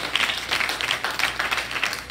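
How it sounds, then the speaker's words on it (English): A church congregation claps together at a Sunday morning service, a fairly loud burst of many hands with uneven rhythm and no talk over it. "You might as well clap."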